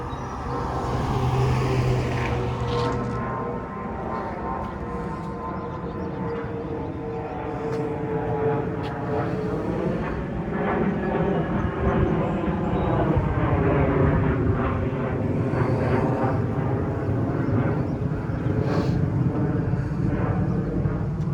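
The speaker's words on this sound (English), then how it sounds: "The planes are sure consistent today." Airplanes pass low over a residential neighborhood in Howard Beach, Queens, New York City, a sustained roaring engine drone that swells and fades over several seconds, heard outdoors at street level.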